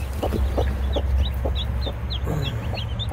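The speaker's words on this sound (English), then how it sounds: "How many chickens we got under here?" Chicks under a broody hen in a messy coop make soft, rapid clucks and peeps in a quick, irregular rhythm, close up over a steady low rumble of background noise.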